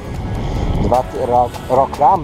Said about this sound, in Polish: tu wieje i nie będziecie mnie słyszeć